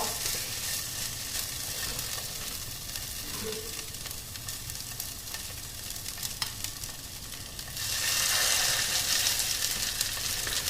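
Salmon and quinoa patties, gluten-free, frying in a pan give a steady crackling sizzle throughout, swelling louder and brighter toward the end as more are laid into the hot oil.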